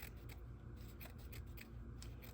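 Scissors snip steadily through linen tea towels, trimming away the hemmed edges with repeated close, crisp cuts and a faint rustle of fabric.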